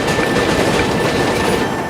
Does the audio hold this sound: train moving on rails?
yes